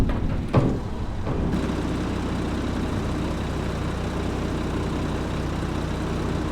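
A steady, low Valtra tractor engine drone from the video game Farming Simulator 22 rumbles continuously with no voices, with a brief clunk near the start.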